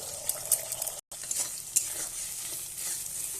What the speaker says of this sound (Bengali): তো ডিমটা ভালো করে আমি ভেজে নেব